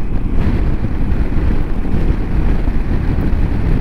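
Loud, steady wind buffets the microphone on a motorcycle ride over open downs, a dense roaring rush that fills the whole stretch with no voices or clear engine note.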